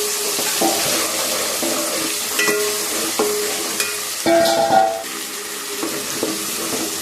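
Ginger, garlic and onion paste fries in a pan for a chicken curry, a steady broad sizzle with intermittent scraping and clinking of a stirring spoon against the pan, close and fairly loud, with no talking.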